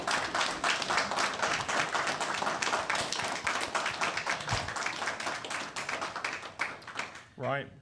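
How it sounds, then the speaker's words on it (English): A convention panel audience breaks into dense, sustained clapping and applause that carries on for several seconds, then fades as a voice starts to speak. "I would like all of you to give yourselves a round of applause for being lovely people."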